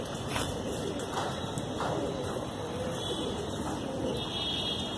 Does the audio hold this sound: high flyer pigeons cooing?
yes